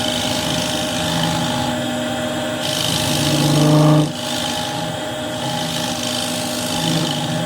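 Wood being worked with a scraper while making a lifted tray, a continuous close rasping scrape under a steady background hum, pausing briefly near the middle.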